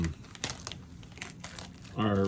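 A foil-wrapped 1996 Metal Universe baseball card pack crinkles and tears open up close, with several quick crackling rips in short bursts, while a person speaks briefly near the end.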